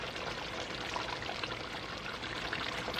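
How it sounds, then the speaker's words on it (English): Water pours steadily into a cooking pot holding carrots for a Jamaican cow foot and rice dish, a continuous close splashing stream lasting about three seconds with no talk. "Adding a little more water and then let it go down a little bit and add my beans."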